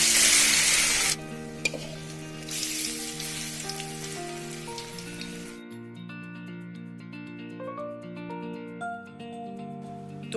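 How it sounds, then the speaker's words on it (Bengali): Bread chops frying one batch at a time in hot oil, giving a steady close sizzle that is loud and broadband at first, then settles lower under background music. "তো এরকম করে আমি সবগুলো এক এক করে ভেজে নেব।"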